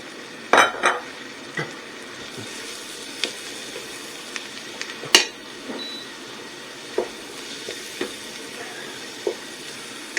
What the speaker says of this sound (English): Now let's put in the shiitake mushrooms.